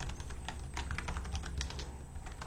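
Typing on a computer keyboard to enter a Drush command, with rapid, steady key clicks heard close up and alone over a faint background hiss.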